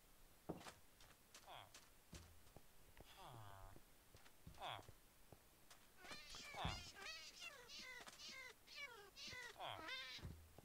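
Cat meowing in the Minecraft video game, several distinct meows and a cluster of rapid warbling cries toward the end, clear and close.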